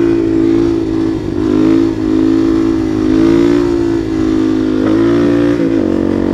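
A supermoto motorcycle pulls up its front wheel in third gear, the engine roaring loud and close with a sustained high-revving drone that dips and climbs as the throttle shifts, no talking.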